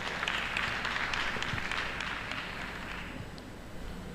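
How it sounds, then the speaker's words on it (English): An audience at a Lagos conference session applauds a speaker, a fairly faint, even patter of clapping that tapers off slightly toward the end. "Round of applause for her."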